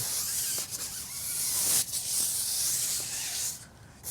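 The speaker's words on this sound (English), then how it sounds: "let's take our yellow stiff wheel cleaning brush. And let's go ahead and just give the wheel a nice scrub" A yellow stiff wheel-cleaning brush scrubbing a chrome wheel on a Mercedes-Benz SL55, a loud, close, bristly hissing scrub with short breaks in the strokes.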